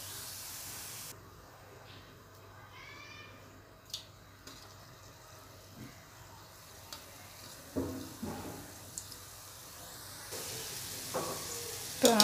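Gulab jamun fry in hot oil with a soft, steady sizzle and hiss, quiet and close, punctuated by a few small clinks and scrapes as they are stirred, with a voice speaking faintly at times.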